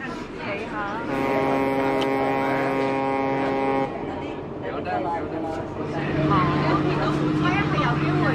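A Cheung Chau ferry carries passengers over the water, its engine droning steadily throughout while a long low horn-like tone sounds in the middle and people talk nearby.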